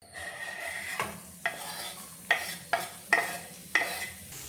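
Green chili, garlic and curry leaves sizzle in hot coconut oil, a steady frying hiss broken by about six clinks and scrapes of a spoon stirring the pan.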